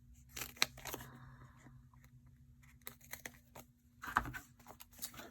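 Scissors snip through a strip of foam adhesive at close range, giving a few quiet, crisp cuts and crinkles with pauses between them.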